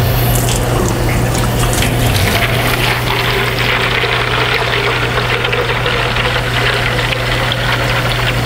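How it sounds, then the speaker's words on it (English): Water pours steadily into a Cryo Cuff cold-therapy cooler, a constant rushing fill with a low steady hum beneath it, unbroken and fairly loud for the whole stretch with no speech. "we're going to put water, fill the rest up to the next line"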